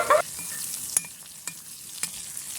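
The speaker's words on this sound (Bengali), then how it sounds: "প্রথমে বেগুন ভেজে নিলাম" Eggplant frying in a pan gives a soft steady sizzle with a few clinks and scrapes as pieces are turned, and a short clattering bump right at the start, with nobody talking.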